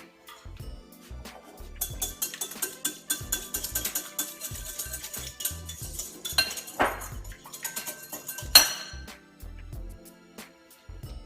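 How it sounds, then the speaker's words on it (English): An egg being whisked in a bowl for crab cakes, a steady run of quick light metallic clinks and taps, close and fairly quiet, with a few sharper knocks. "get your egg, and you're gonna whisk your egg"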